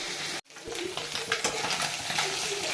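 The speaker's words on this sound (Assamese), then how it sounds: "মাছ ভজা হৈয়ে গ'ল।" Salt-and-turmeric fish fries in a pan with a continuous close sizzle. It cuts out for a moment, then returns with scraping stirring strokes and crackling oil.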